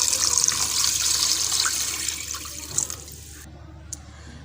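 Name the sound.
water poured into a pan with chicken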